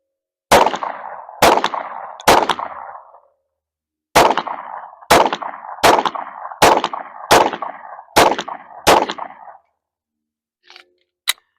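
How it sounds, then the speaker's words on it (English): Ruger RXM handgun fired with iron sights: ten sharp, loud shots ring out, three in quick succession, a short pause, then seven more at an even rapid rhythm, with a faint click at the end. "Under 15 seconds, 10 shots, Ruger RXM iron sights."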